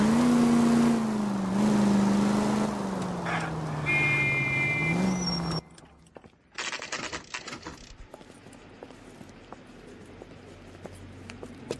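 A car drives with a loud engine drone that rises and dips in pitch, then cuts off abruptly into quieter, clattering noises.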